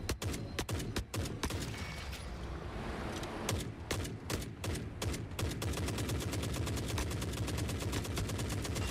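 Automatic weapon fire in Forever Winter: a few spaced bursts give way to a long, continuous stream of rapid shots, loud and steady to the end.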